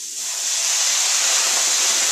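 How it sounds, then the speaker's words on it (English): Carrots and burdock steam-cook in a warm pan with a little water, making a loud, steady hiss that swells in the first moments and then holds evenly, with no voices over it. "This is steam cooking"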